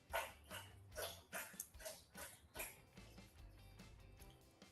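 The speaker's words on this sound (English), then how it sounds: "It's a loud drinking of water." A dog laps water noisily, making a series of wet, rhythmic slurping bursts that repeat about every half second. The sound is quiet overall and carries a low background hum.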